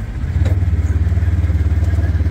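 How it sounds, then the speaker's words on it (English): A farm cab tractor's engine runs close by with a loud, steady low throb and a fast, even pulsing rhythm, alone and unbroken. "I just got my first cab tractor in forever."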